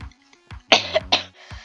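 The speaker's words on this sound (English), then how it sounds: "cough and I have COVID" Several sharp coughs from a person with COVID, close and fairly loud, including a pair of harsh bursts in quick succession following a brief throat noise.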